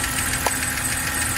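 The engine of a used car at an auction runs under the open hood with a possible pulley fault, a steady close rumble with a faint rhythmic knock and no talking.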